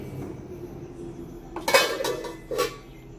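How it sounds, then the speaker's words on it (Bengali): A lid is set over a pot of ginger tea, giving two or three close metallic clinks and clatters after a quiet kitchen background. "চাটা ঢাকা দিয়ে রাখছি"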